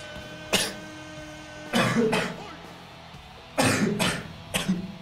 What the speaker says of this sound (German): Entschuldigung, weil ich ab und zu nochmal husten muss.